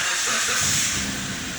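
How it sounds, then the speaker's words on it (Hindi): A Suzuki Cultus (Celerio) car engine starts up with a broad hissing, whooshing rush that settles into a steady low running rumble, close and fairly loud with no talk. "ये गाड़ी मैं स्टार्ट करने लगा हूँ"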